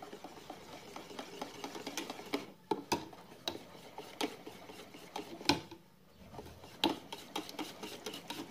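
Cake batter with yogurt is mixed in a bowl, giving quiet, irregular clicks and scrapes of a utensil against the dish, with brief pauses in the stirring.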